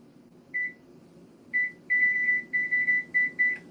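A kitchen timer beeps as it is being set during a cooking session, giving short, clear electronic tones, first two isolated beeps and then a quick run of six or seven, close by in a quiet room.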